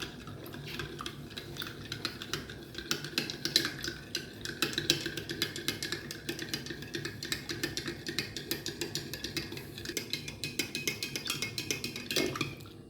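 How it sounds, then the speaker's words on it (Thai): A spoon stirs an instant coffee mocha mixture of coffee powder and creamer in a 22-ounce glass, giving a steady run of quick metallic clinks and taps against the glass, fairly close and continuous with no talking. "เราก็จะใช้ช้อนคนให้ส่วนผสมเข้ากันทั้งหมดนะคะ"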